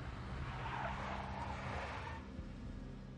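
A big black Mercedes skids in the Max Payne video game, a broad tire squeal swelling over a low engine rumble for a couple of seconds before easing off.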